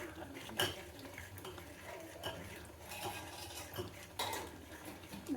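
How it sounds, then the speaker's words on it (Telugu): A utensil scrapes and knocks against a pan while cashew upma is stirred continuously, irregular clinks and scraping strokes up close at moderate loudness, with no talk. "కలుపుతూనే ఉండాలి ఫ్రెండ్స్ ఒక ఫైవ్ మినిట్స్ కలుపుతూనే ఉండాలి"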